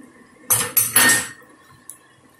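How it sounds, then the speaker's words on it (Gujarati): Prepared gravy for paneer matar tipped into a cooking pan, giving three quick clattering bursts of metal and utensil against the pan close by, then a brief faint clink. "આપણે આ ગ્રેવી જે બનાવી હતી હમણાં એ નાખી દઈશું અંદર"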